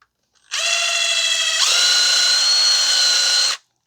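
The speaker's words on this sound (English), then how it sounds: "we're going to clean out the bore with the bore brush and brake cleaner before we install the new pins and boot" A bore brush, likely power-driven, cleaning the brake caliper pin bore of a 2012 Ford Fusion 2.5 during a front brake job: a steady close whirring buzz lasting about three seconds with a slight pitch shift midway, no talk.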